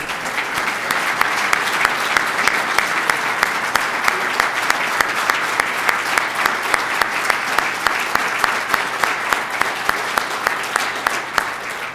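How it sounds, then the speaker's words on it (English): Loud, dense applause from a large audience at a school district state-of-the-schools address, sustained evenly throughout with no talk over it. "Let's give them another round of applause"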